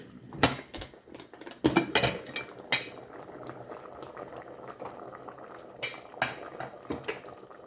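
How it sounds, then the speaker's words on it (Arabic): Turkish red lentil soup with vegetables boiling in a pot, a soft bubbling simmer with scattered pops, and occasional sharp clinks of a utensil against the pot, quiet and close. "الخضره ديالنا هي بدات كطيب"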